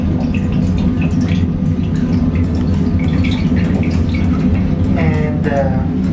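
Hand-washing tap running in a toilet compartment aboard a Lao-China Railway bullet train, a steady loud rush of water over constant train rumble, with a few brief drips and splashes near the end.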